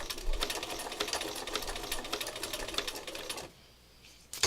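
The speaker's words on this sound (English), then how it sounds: "now I've gone back to the wider, a little bit longer zigzag." Sewing machine running a wider, longer zigzag stitch, a fast steady mechanical chatter for about three and a half seconds before stopping, leaving quiet room tone and a brief click at the end.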